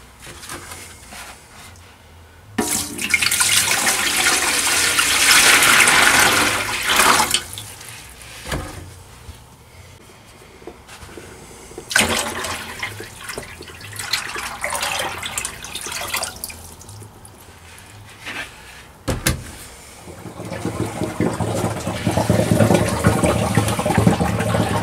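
Water pours into a DIY travel trailer's holding tank during a leak test, a steady splashing rush that runs in long loud bursts with brief pauses and shifts in intensity, with no talk.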